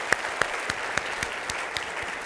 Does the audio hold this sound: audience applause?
yes